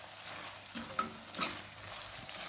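Tomato masala for chicken sukka frying in a pan, with a steady soft sizzle broken by a few clinks and scrapes of a spoon stirring, close and moderately quiet.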